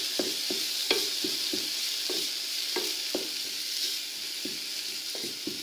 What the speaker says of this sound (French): Là c'est vraiment histoire de mélanger l'ail avec le persil.